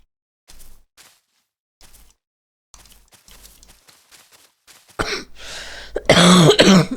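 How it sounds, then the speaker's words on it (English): A man coughing and clearing his throat after recently catching COVID: a few faint scattered sounds, then a burst of loud, harsh coughs close to the microphone. "Excuse me for the cough"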